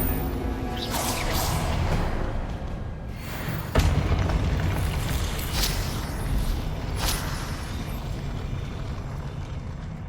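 Confringo fire spell cast in the Hogwarts Legacy video game, a sharp whooshing burst with a thudding impact over dense, continuous game noise, followed by further swishing bursts.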